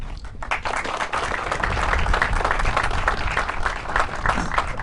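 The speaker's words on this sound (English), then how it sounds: "I didn't think I'd get a second round of applause" Audience applause at an Air Force Reserve ribbon cutting ceremony for a new shooting range, a steady, dense round of clapping heard from moderate distance that swells and holds without talk.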